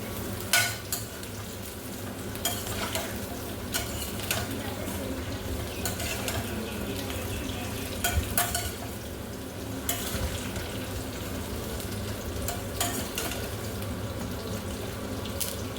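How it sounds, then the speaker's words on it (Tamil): Bitter gourd and okra fry in oil in a pan, a steady close sizzle with repeated clattering stirs and scrapes over it, continuing for about sixteen seconds without speech. "பாவக்காய் எண்ணெயில் போட்டாச்சு எண்ணெயில் வணங்கிட்டு இருக்குது பாவக்காய்"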